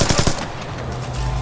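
Rapid bursts of automatic gunfire in the Splinter Cell Blacklist Spies vs Mercs multiplayer mode, a quick run of loud shots at the start followed by a lower sustained rumble.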